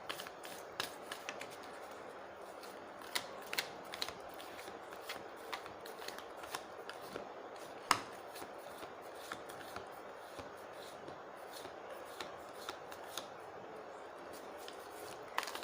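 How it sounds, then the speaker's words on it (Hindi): Tarot cards are shuffled and drawn in a quiet room, soft papery riffles and crisp snaps and flicks scattered irregularly across the whole stretch, close and gentle with no voice. "थोड़े से और कार्ड्स निकाल के देखते हैं"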